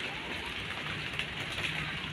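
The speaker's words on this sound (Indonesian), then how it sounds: "Hujan." Rain falling steadily on a partly demolished shack, a soft, even, continuous hiss of drops at low volume throughout, with no speech.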